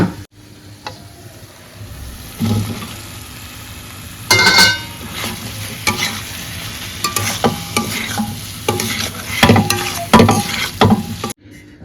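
Aloo dum masala frying in oil in a pan, stirred with a spatula; intermittent scraping strokes and clanks over a low sizzle, close up, with no voices.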